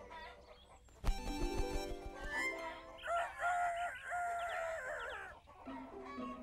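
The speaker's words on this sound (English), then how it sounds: "Morning has come, and the rooster is crowing out loud." A cartoon rooster crows loudly and close by, a long strained call followed by clucking, with little else in the background.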